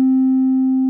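Steady sine wave tone from a VCV Rack synthesizer oscillator, a pure constant pitch held for about a second at even loudness, alone with no talk.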